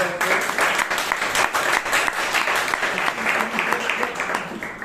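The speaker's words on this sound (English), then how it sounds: "Give a round of applause to her." An audience at a Bangalore Toastmasters meeting applauds, a steady spell of many hands clapping with some voices mixed in underneath.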